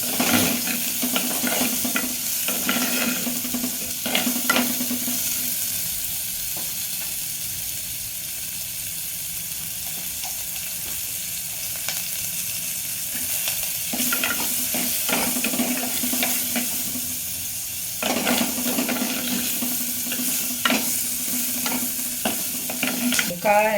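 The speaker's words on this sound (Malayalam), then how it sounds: "അപ്പോൾ ചുവന്നുള്ളി അതിലേക്ക് ഇട്ട് കൊടുത്ത്" Shallots fry in a pan with a loud, continuous sizzle, punctuated by repeated scraping strokes of stirring that come in bursts over roughly twenty-four seconds.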